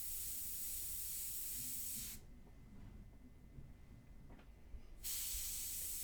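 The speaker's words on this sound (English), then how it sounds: "make sure that the airbrush is working" An airbrush spraying India ink for portrait painting, a steady close airy hiss that cuts off for about three seconds in the middle and then resumes, with no talking.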